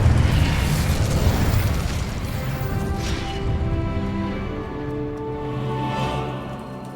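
An Incendio fire spell is cast in Hogwarts Legacy, a loud fiery burst and rumble at the start that fades into a ringing, tonal magical tail.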